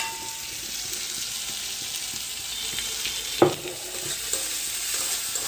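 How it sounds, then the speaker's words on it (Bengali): Ginger garlic paste and meat masala fry in a pan with a soft continuous sizzle, and one sharp scrape of a stirring spoon stands out midway. "এবার একটু ভালো করে নেড়ে নাও, এভাবে নাড়ছি আমি"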